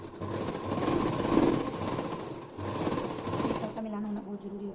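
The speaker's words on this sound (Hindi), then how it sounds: "अब हम इसकी यहाँ पर सिलाई कर देंगे" A sewing machine runs in a steady, close mechanical whir while stitching a belt onto a salwar, pausing briefly once before running again and stopping near the end.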